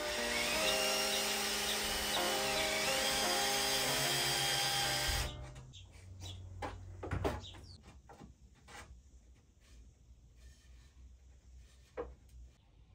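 Power tool widening a hole in a piece of bamboo while building a Japanese bamboo fountain, a loud steady whine for about five seconds that cuts off, followed by scattered clunks and handling knocks.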